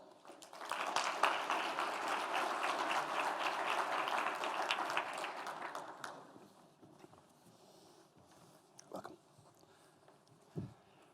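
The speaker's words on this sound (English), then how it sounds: "Please welcome them with a warm round of applause." Warm round of applause from a conference audience as panelists come on stage, dense clapping for about six seconds that then fades to room noise and a few scattered knocks.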